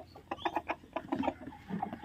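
Hens clucking in quick, uneven bursts, close by and moderately loud, several short calls overlapping; laying hens.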